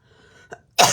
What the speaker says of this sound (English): I'm actually choking, not coughing.